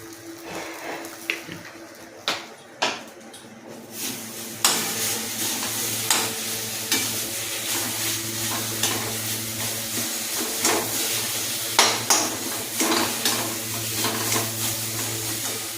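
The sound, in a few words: stirring and frying roasted spices for pointed gourd dorma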